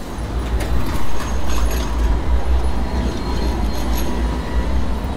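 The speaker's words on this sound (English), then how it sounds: "Here comes the tram." A Sydney tram rolls past close by, a loud continuous low rumble of wheels on rails with faint metallic squeals above it.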